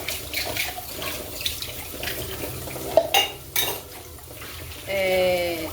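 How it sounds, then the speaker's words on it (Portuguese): Dishes washed at a running kitchen tap: clinks of plates and cutlery, splashing water and a stream from the faucet near the end, close by, with someone talking over it. "Tô aqui lavando a loucinha."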